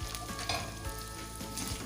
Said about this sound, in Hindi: इसको 1 से 2 मिनट अच्छे से भून लूँ